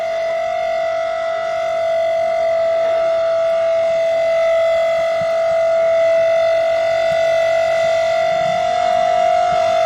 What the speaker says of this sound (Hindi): ऐसे में दिल्ली में सायरन गूंजा है और पीडब्ल्यूडी हेडक्वार्टर से ये सायरन बजाया